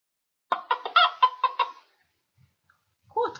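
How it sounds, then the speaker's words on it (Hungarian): A hen clucks in a quick run of about seven loud, close clucks, then falls silent before a brief further cluck at the end, with no talk over it. "És jön a tyúkocska."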